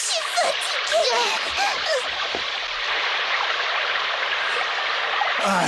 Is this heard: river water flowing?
yes